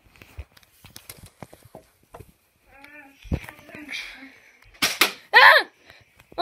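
A Nerf Surge Fire blaster fires foam darts in a few sharp, snappy pops near the end, after quieter clicks and handling noises and a voice talking in the room.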